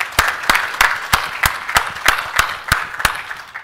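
Rhythmic unison clapping from an audience at a Python conference talk, about ten evenly spaced loud claps roughly a third of a second apart, with no voices over them.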